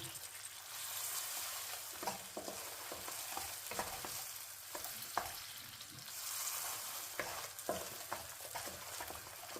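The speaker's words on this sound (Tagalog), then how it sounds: "Lagay na natin yung kaprasong butter guys." A piece of butter, about a cup and a tablespoon, melts and sizzles in a pan for caramel popcorn, a steady crackling fry with occasional sharper pops and stirring scrapes close by.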